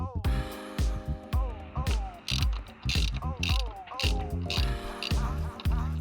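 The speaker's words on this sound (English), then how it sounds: "Unscrew the plastic bolt." A 10mm socket ratchet loosens a plastic bolt at the cabin air filter of a 2005 Mercedes E320, giving repeated quick clicking bursts in an uneven rhythm, close and clear.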